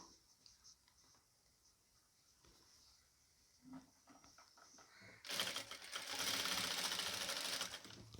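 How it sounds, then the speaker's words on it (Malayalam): A sewing machine stitches the neckline fabric of a nighty, quiet at first, then a loud, steady whirring run of stitching starting partway through and continuing to the end. "എന്നിട്ട് കോർണർ എത്തുമ്പോൾ കുത്തി നിർത്തി ഇപ്പുറത്തെ വശത്തേക്ക് സ്റ്റിച്ച് ചെയ്ത് കൊടുക്കാം"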